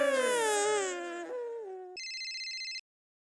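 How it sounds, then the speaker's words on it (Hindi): A phone rings indoors with a short electronic trill of rapidly repeating beeps that follows a wailing, crying-like voice, then stops abruptly after under a second of ringing. "किसका फोन बजा?"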